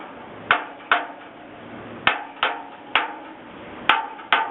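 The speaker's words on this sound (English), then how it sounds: "And now this is the true hammer test." A hammer strikes the metal of a fire escape to check it for rust, giving seven sharp, ringing blows in uneven pairs and singles, close and clear with no talk over them.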